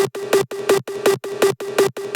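Hard techno kick drum reverb tail, frozen and faded: seven evenly spaced booming hits in a steady four-on-the-floor rhythm, each washing into a bright ringing smear with a sustained tonal hum, loud and alone.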